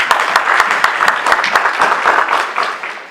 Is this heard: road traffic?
no